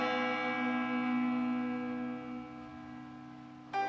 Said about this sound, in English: She remembers that church bell would ring every day, that there's a certain bell for a notice for the death.